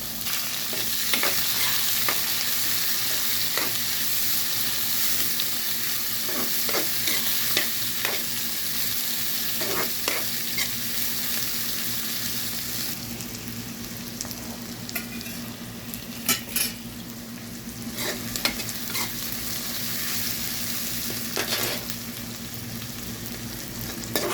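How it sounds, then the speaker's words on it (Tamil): Onions and chicken sizzle steadily in a pan for a peppery chicken fry, with a loud, close, continuous frying hiss broken by repeated scraping stirs and clinks of the spatula throughout. "வெங்காயம் சேர்த்துருக்காங்க ஒரு கிண்டு கிண்டியிருக்காங்க"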